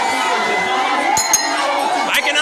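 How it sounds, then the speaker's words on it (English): A large protest crowd of women in Maryland County shouts and chatters in a dense, continuous roar, with a few sharp clinks and higher cries breaking through the steady din. "The crowd is swelling up."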